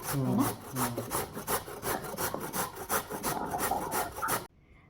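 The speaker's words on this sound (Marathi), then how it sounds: "आपण ह्याला आता किसून घेऊया या भोप्याला" A whole pumpkin is grated by hand for sweet pumpkin puris, giving a steady run of rough rasping strokes with no voice that stops abruptly near the end.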